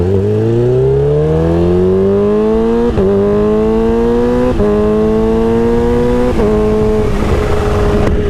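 A Kawasaki Ninja H2 motorcycle accelerates hard and loud, its engine note climbing steadily through several quick upshifts, each marked by a brief dip before the pitch rises again.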